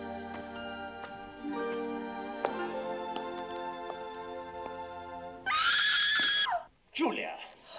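A woman lets out a loud, piercing scream in a classic comedy crime film. It cuts in sharply after quiet music and talk, holds for about a second, then a shorter second cry follows.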